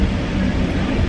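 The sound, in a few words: train moving after departure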